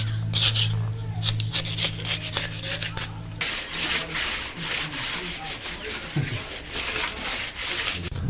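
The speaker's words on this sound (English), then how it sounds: "I sanded the block down" A 4G63 turbo engine block is hand-sanded with close, rhythmic rubbing strokes, a steady low hum behind them at first, then louder, rapid back-and-forth scrubbing.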